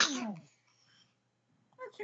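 A single sharp sneeze bursts out at the start, followed by a short quiet pause and then a brief voice.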